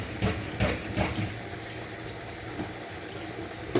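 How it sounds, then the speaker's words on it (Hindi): One cup of water poured into a pressure cooker, a hissing, gushing stream with a few splashy surges early on, then a steadier rushing flow, close by. "1 कप पानी डाल दिया,"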